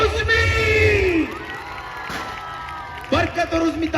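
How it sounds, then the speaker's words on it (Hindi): Live stage show in Karachi for comedy performers Barkat and Uzmi: a loud crowd roars with cheering, whoops and shouts, swelling and then fading, with a fresh burst of cheers and yells near the end. "जोरदार तालियां"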